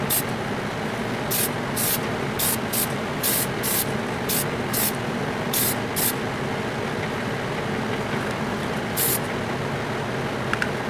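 Aerosol can of Testors Royal Blue Pearl paint hissing in a series of short, close bursts for a light second coat on a Corgi Bedford CA van model, over a steady background rumble.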